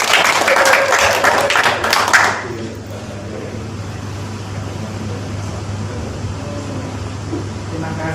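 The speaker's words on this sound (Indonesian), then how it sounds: "Tepuk tangan dong untuk Lucy." A short burst of audience clapping at a church gathering, loud for about two seconds and then stopping abruptly, leaving low room hum and faint background murmur.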